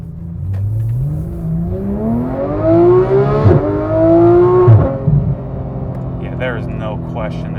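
A Porsche 991 GT3 fitted with a Dundon Motorsport exhaust and headers accelerates hard from inside the car, its engine note climbing through rising revs with quick shifts, loud and close, while a voice talks over it.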